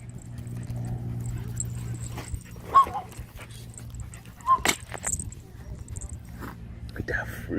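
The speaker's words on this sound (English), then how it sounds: "What are you growling at, the rat?" A chihuahua's low, sustained growl hums steadily beneath hushed, whispery human voices, broken by a couple of sharper yips and rustles near the middle.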